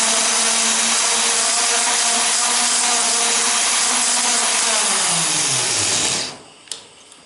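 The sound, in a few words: valve seat grinding stone cutting cast iron cylinder head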